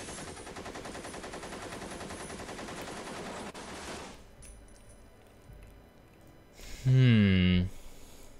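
Rapid, dense burst of machine-gun style gunfire sound effect, loud and continuous for about four seconds, then quieter background noise and a brief loud tonal squeal near the end.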